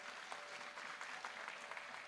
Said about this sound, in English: Please give him a big clap.